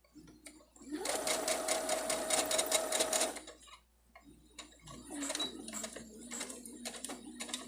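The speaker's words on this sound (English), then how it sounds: "on those elastic corners, I'm doing a back stitching a couple times" Sewing machine back stitching the elastic corners of a face mask, a fast steady mechanical whir running for a couple of seconds, stopping, then resuming more softly, close and clear.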